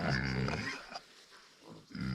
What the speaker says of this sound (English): new little pig is taking up residence with this little feeder boar